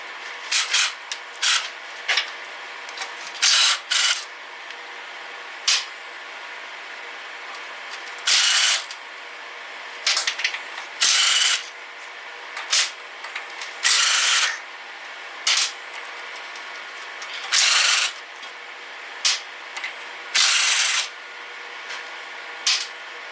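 Someone works at taking the side cover off a 5 hp Briggs engine with tools, making scattered bursts of scraping, rubbing and ratcheting sounds separated by quiet pauses, close and fairly loud.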